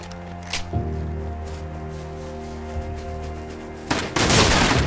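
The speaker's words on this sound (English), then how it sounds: "He shot me with that fucking shotty!" Shotgun fire from the survival video game Rust: a few sharp blasts, the loudest and longest near the end, sitting over a steady tonal drone of game sound.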